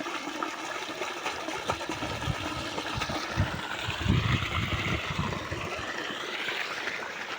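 Water pumped by a motor rushes through an irrigation line on a farm field, a steady gushing and churning flow with low rumbling surges, continuous and fairly close throughout.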